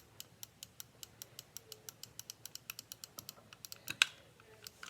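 A computer mouse button clicks over and over in a quick, fairly steady run of about two dozen sharp, close clicks, with one louder click near the end and no voices.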